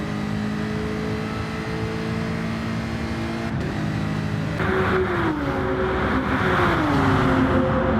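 Race car engine on the Monza circuit in a sim racing game, a loud steady high-pitched drone with rising and falling tones as it revs and shifts, growing slightly louder in the second half.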